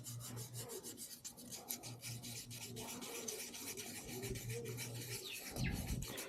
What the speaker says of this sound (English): and further when you're only trying to get like a light even sand.